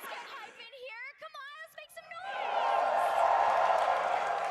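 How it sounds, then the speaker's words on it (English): A crowd at the opening ceremony of the Vegas Open tournament swells into a loud roar of cheering after a stretch of excited speech. "We actually have a crowd going crazy. Did you guys hear that?"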